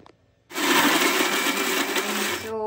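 A mixer grinder blending jackfruit with jaggery, black pepper and cardamom without water starts abruptly and runs as a loud, continuous high whirring grind for about two seconds before cutting off.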